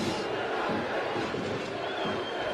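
A passionate Cork City away crowd at a Galway v Cork football match chants and roars in a loud, continuous mass of voices that swells and dips slightly.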